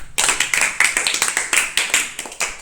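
Children clapping in a classroom during a maths shapes lesson, a lively burst of sharp, rapid hand claps that runs steadily for a couple of seconds, fairly close and loud.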